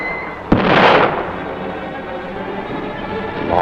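A World War II artillery gun fires a shell with one loud, booming blast that rumbles and decays over the next second, set against a busy battlefield background.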